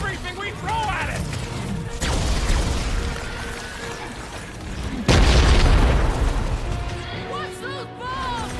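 Bombs blow up in Marvel's Guardians of the Galaxy video game as loud, deep booms, two big blasts rising over steady rumbling game noise, with character voices talking around them.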